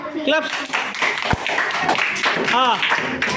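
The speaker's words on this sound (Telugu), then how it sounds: "Very good. క్లాప్స్." Primary schoolchildren clapping together in a classroom: a short burst of quick, overlapping claps under a teacher's and children's voices.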